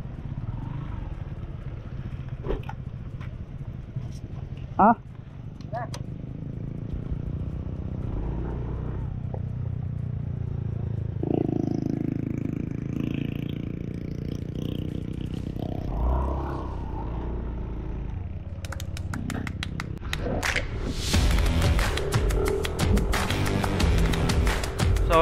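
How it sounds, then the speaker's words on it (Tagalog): CF Moto 450 MT adventure motorcycles riding on a road, a steady engine rumble with wind noise that swells louder near the end, a brief voice heard over it. "mga CF Moto na 450 MT. Yung mga adventure bike."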